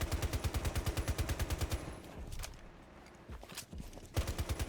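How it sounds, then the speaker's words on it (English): Rapid automatic gunfire from a firefight in Rainbow Six Siege, loud and close in steady bursts that break off mid-clip and resume toward the end. "Yeah, I'm shooting at him."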